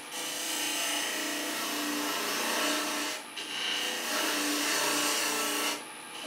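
A gouge cutting milk pear wood on a lathe, a steady rushing, scraping hiss with the spinning workpiece, briefly easing twice as the tool lifts off.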